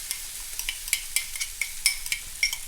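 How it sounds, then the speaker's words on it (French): Roasted pepper purée with mustard seeds stirred in a pan, a spoon scraping in quick irregular strokes with light clicks and a soft sizzle underneath, close and moderately quiet with no talking. "Et on mélange le tout."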